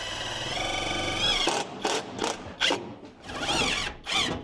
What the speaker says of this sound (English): We're gonna use some sheet metal screws and screw this plenum down to the